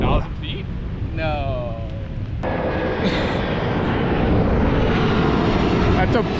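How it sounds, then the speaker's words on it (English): An airplane drones overhead, its engine noise building steadily and growing louder toward the end, while people talk near the start. "That's a plane."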